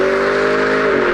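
A 2011 Chevrolet Camaro SS with its 6.2-liter V8 holds a steady, loud engine drone at a constant pitch, with no change in speed and no voices.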